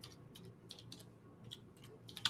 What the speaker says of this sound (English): I was typing it in